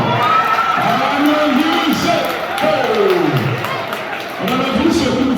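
A crowd at a celebration in Sweden cheers and whoops, with loud clapping and excited shouts swelling and dipping, while voices call out over the din.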